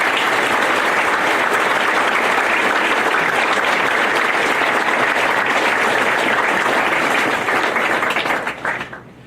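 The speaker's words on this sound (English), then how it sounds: "How about a round of applause for all the service members in this audience?" An outdoor crowd at a veterans home groundbreaking in Holyoke applauds service members in the audience, sustained close clapping with a few cheers that fades out over the last second.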